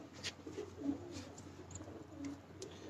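Soft, low pigeon cooing murmurs quietly beneath a steady background hum, faint and somewhat distant, with a few brief higher chirps scattered through.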